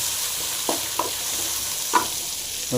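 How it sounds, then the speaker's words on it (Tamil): Onions with salt and mustard seeds frying in a pan, a soft steady sizzle with a few light stirring scrapes, close and moderately loud, no talking. "இது வெங்காயமும் உப்பு சேர்த்துடலாம் நல்லா ஃப்ரை பண்ணிக்கலாம்"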